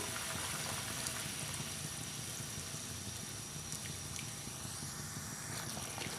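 Chicken nihari simmering in a pot after a flour-and-water mixture is stirred in, giving a steady, close, continuous bubbling hiss with no talking.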